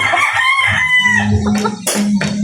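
A young rooster, about five months old, crows once in a fairly loud, slightly rough and unpolished call, close by, with a brief second burst near the end and no talking over it.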